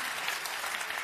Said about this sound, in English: I think this is worth an applaud.